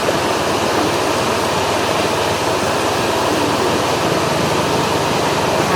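Waterfall at Brgy Candis, Rizal, Palawan, a loud, steady broadband rush of falling water that stays constant throughout with no pauses.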